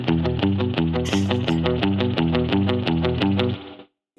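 A clean electric guitar played through a Kemper Profiler with deep spring reverb picks a steady, rhythmic surf-style pattern of repeated notes, then stops with a brief reverb tail.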